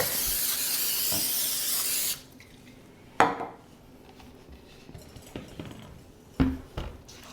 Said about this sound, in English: I'm going to spray it with cooking spray so it doesn't stick